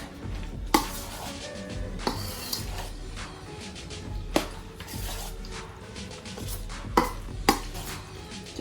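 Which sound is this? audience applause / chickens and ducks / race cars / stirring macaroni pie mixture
stirring macaroni pie mixture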